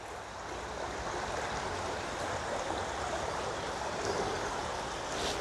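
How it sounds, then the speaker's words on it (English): A river trickles gently past a small wooded trail on a rainy day, giving a steady, soft rushing wash of water that holds an even level throughout with no voices. "The river trickling gently by."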